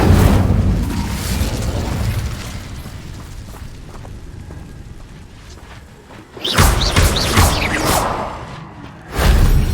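An Incendio fire spell in Hogwarts Legacy bursts with a loud whooshing boom that fades into a crackling rumble, then two further fiery blasts flare up near the end.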